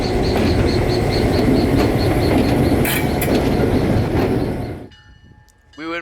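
Museum passenger train rolling slowly along railroad tracks, loud close rumble with rhythmic wheel clicks and a faint squeal, then the sound cuts to quiet with a rising high squeal at the very end.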